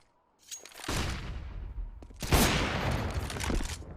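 Gunfire in a Counter-Strike-style esports match, an AWP sniper duel: two loud bursts of shots about two seconds apart, each ringing into sustained crackling fire, with no talk over it.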